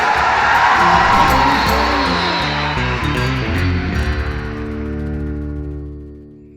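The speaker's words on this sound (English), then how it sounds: "How about a round of applause for that?" Commencement audience at Thomas Aquinas College applauding and cheering: a loud, dense wash of crowd clapping and cheers with a swelling tone underneath, gradually fading toward the end.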